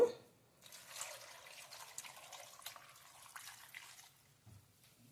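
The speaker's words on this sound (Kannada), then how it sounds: "ಇನ್ನು ಸ್ವಲ್ಪ ನೀರು ಹಾಕ್ಕೊತಾ ಇದ್ದೀನಿ" Water pours and splashes into a pot of tomato and fresh pigeon pea sambar for a few seconds, close and soft, then stops with a faint clink.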